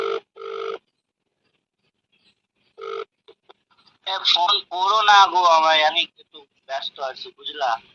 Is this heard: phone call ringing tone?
yes